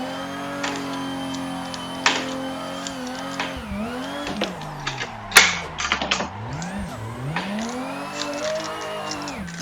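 A racing sim car engine drones and revs with swooping pitch changes as the car is held in a long drift on a circuit, with brief tyre squeals and a sharp bang mid-way.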